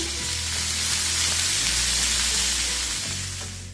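Steady, loud sizzling of onions frying in hot oil, close up, with faint stirring scrapes underneath and no voices.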